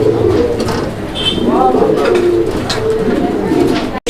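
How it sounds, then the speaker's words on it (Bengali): Pigeons coo in a pen of fancy breeds offered for sale, giving a steady run of soft, throaty calls close by, with a few brief higher chirps and someone talking over them. "বন্ধুরা আমরা এই মুহূর্তে দেখতে পাচ্ছি এখানে চমৎকার আরও একজোড়া কবুতর"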